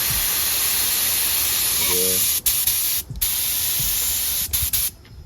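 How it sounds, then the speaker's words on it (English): A paint spray gun loaded with thinner as gun wash blasts a steady, loud hiss while being cleaned before painting a car hood at home, broken by a few short pauses and a brief faint tone near the start. "I always like to, even though it's clean, just spray with some thinner."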